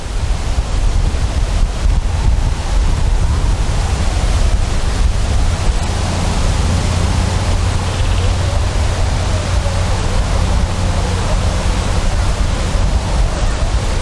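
Strong wind buffets the microphone on a golf course, a loud, continuous roaring rush with no break and no voices.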